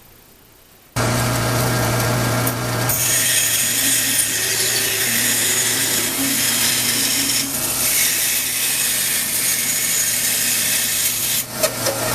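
A band saw cuts steadily through wood to shape a box, starting after a second of quiet and running as a loud, continuous whine with a rasping texture until the end.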